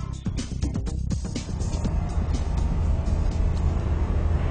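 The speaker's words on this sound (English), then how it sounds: "The Transition's a really fun flying car to drive." A Terrafugia Transition flying car driving on a road, its engine and tyre noise forming a steady, moderately loud rumble that builds slightly as it goes, with no voices.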